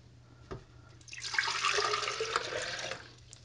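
About three-quarters of a pint of water poured into a liquidizer as lemon meringue pie filling is made, a steady splashing rush of a couple of seconds, close and fairly loud, with no talking.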